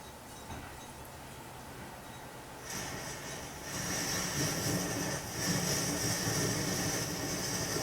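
A liquid-fuel backpacking stove with a pressurized tank and fuel tube burns with a steady broadband roar that grows louder and fuller partway through, then holds close and constant.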